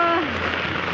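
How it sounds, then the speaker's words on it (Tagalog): Heavy rain driven by strong winds, a dense steady hiss of downpour hitting surfaces, with a brief whistling tone at the start. "Lakas ng ulan."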